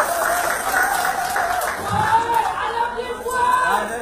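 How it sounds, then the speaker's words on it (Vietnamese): Audience applause at a Vietnamese stage performance, a steady wash of clapping with a faint crowd murmur and a sustained musical tone beneath. "Xin cả nhà cho một tràng pháo tay ạ"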